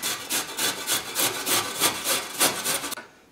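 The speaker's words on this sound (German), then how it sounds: "Jetzt werde ich die Karotte reiben, die ist mittlerweile geschält, und zwar mit dieser feinen Reibe." A peeled carrot rubbed against a fine kitchen grater, giving steady rhythmic rasping strokes of about one per third of a second, close and fairly loud, stopping abruptly near the end.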